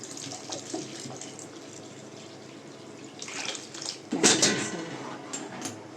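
Hot water pours into a pot of rice papad batter in a home kitchen, a steady splashing flow with a louder burst and metallic clatter of utensils near the end.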